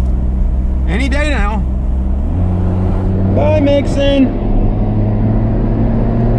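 A 1990 Toyota HiAce van with a 2.0 liter rear-wheel-drive engine hums underneath a person talking from inside. The engine note steps up partway through as it pulls away and builds speed.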